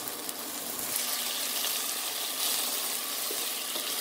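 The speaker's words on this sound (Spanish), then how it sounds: "Vean cómo todavía tiene juguito el pollo y estamos esperando hasta que se seque y se dore un poquito el pollo" Chicken browns in a pan as its juices cook off, giving a faint, steady hiss and bubbling sizzle that continues evenly throughout.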